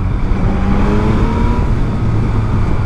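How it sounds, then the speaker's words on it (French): Yamaha MT-09 SP or MT-10 SP motorcycle accelerating hard, a continuous loud engine roar with rising harmonic tones, steady and close throughout with no voices. "Enfin, très belle accélération sur cette moto."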